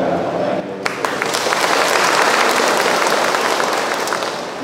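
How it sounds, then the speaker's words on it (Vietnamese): A church congregation at a feast-day Mass bursts into applause right after a brief bit of speech, the clapping swelling into a full, steady roar of many hands that carries on and slowly eases. "cũng mong một tràng pháo tay"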